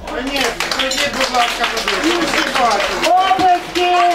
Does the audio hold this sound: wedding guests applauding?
yes